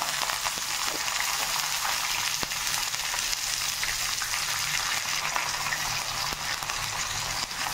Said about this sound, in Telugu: ఎండుమిర్చి వేసుకొని కొంచెం ఫ్రై చేసుకోండి